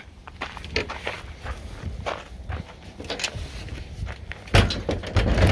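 A rear door on a Swiss HDU truck topper fitted to a Chevy Silverado/Sierra HD with a 6.7-foot bed is slammed shut, giving a loud, close thud near the end after quieter handling noises and faint talk.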